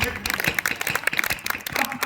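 Audience claps at a large Hindu New Year poetry gathering (kavi sammelan) in Radhasagar, Katghora; a brief burst of scattered applause mixed with voices and crowd noise, fairly close.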